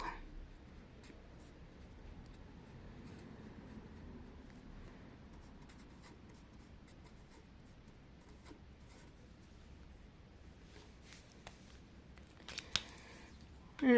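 Ballpoint pen writing labels on a paper trousers pattern, a long quiet stretch of soft scratchy strokes followed by a few sharper taps and rustles near the end, close and faint with no speech.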